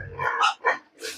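Two young grower pigs make three short, loud squealing grunts close by before feeding, with no voices heard.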